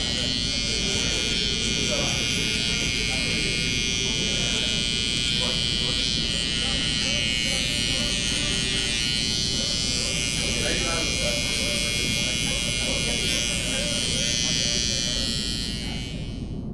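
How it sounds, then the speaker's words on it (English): A barber's electric hair trimmer buzzes steadily and close up while cutting a taper guideline, a continuous high whirring drone with no breaks. "I start my initial guideline with my trimmer"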